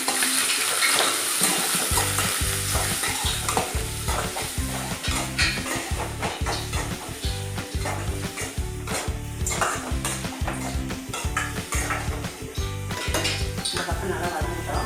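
Onion and curry leaves frying in a pan, stirred steadily with a utensil that clinks and scrapes in a fast repeating rhythm over a continuous loud sizzle, close up.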